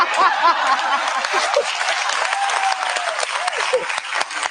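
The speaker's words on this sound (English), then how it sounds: "And look at all the guys over there clapping" Men in a studio audience clap steadily and continuously, a dense, close patter of applause with some scattered chuckles mixed in and no clear talk over it.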